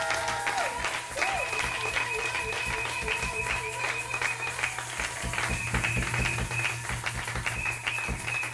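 A church congregation claps and cheers for God's love, steady applause mixed with background music and voices, filling the hall throughout.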